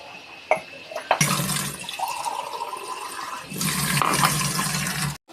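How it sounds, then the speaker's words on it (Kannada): Water gushes steadily into a pot of mango curry, a loud close pour preceded by a few splashes and clinks, running for several seconds before cutting off. "ಇವಾಗ ನೀರನ್ನು ಸೇರಿಸುವ"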